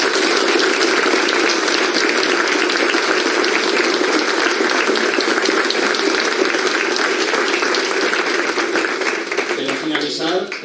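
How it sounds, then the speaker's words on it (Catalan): Loud, sustained audience applause fills the hall at the fourth Jocs Florals poetry awards ceremony in Benimaclet, a dense, even roar of clapping that carries on without a break and fades slightly at the end. "Demano un aplaudiment per a tots ells."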